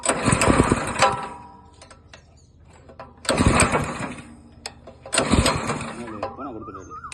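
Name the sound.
7.5 HP multi power weeder engine running with ridger attachment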